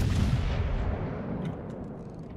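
Battleship turrets firing heavy shells in World of Warships, a deep rolling boom that fills the first moments and slowly decays into a rumbling tail, loud and close.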